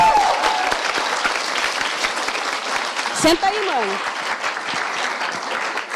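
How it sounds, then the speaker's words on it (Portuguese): An audience at the opening of a seminar claps steadily and loudly after a poetry group's performance, with a brief sharp knock midway and a person speaking close by over the clapping. "Uma salva de palmas para Poetas Favelados."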